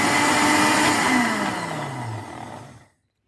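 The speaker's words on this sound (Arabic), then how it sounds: "طبعا هنضربها في الخلاط بعد ما نزلنا عليها كمية الزيت" A blender whirs loudly, mixing cheese with about half a cup of oil for a creamy cheese spread, its motor pitch sliding downward as it slows before cutting out abruptly.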